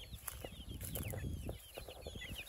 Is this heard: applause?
no